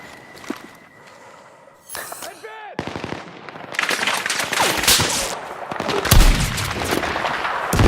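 Battlefield 6 combat gunfire: quieter scattered shots at first, then a brief shout, then heavy continuous automatic fire with booming impacts that swells louder over the final seconds.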